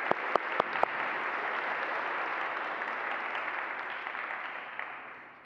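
A church congregation applauds during a Sunday Eucharist service, a few sharp claps opening into a steady, dense round that holds, then fades out at the end.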